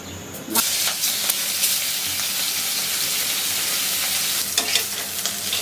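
Loud, steady sizzling of hilsa fish frying in hot oil fills the whole clip, a dense crackling hiss with a few sharper spits and pops near the start and end.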